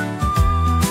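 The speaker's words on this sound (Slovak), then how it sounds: "Keď sprievodca zapíska," Train conductor's whistle in a children's song, a single bright sustained whistle tone held for about a second over bouncy bass notes of the backing track.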